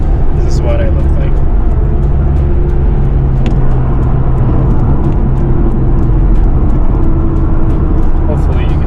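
Car driving on a highway between Calgary and Saskatoon, a steady loud rumble of engine and road noise from inside the vehicle throughout, with talking over it.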